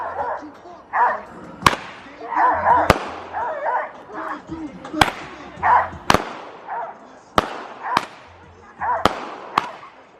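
X Factor firework cake firing about six sharp shots in a backyard Fourth of July show, loud cracks spaced around a second apart, with a dog barking and yelping between the bursts.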